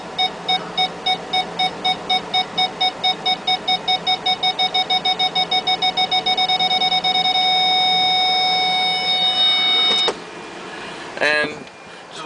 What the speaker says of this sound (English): When you turn, there's our parking sensors, a warning as we're approaching another object or vehicle. The closer you get, the faster the beep will get.